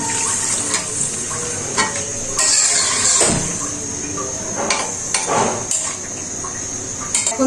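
Boal fish curry with potato and pointed gourd sizzles in a pan while being stirred and broth is poured in, a steady frying hiss broken by several louder scraping and splashing bursts, close and without talk.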